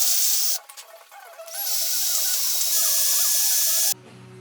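An electric drill bores into stuck old screws on a BMW Bing CV carburetor, giving a high whining motor note that dips briefly, resumes steadily, then cuts off abruptly near the end.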